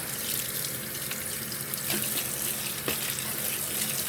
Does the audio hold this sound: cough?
no